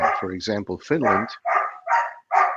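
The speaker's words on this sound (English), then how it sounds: "Sorry for the dog barking in the background there" A dog barks and yips repeatedly in quick, uneven bursts behind someone talking, the barking mixed with and partly covering his speech.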